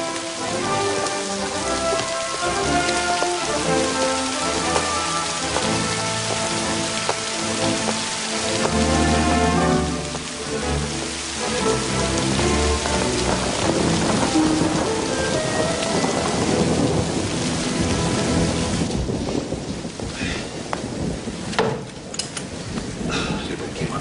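Heavy rain pours down in a drenching downpour with rolling thunder, a dense loud hiss of drops on surfaces throughout, with deep rumbles swelling beneath it.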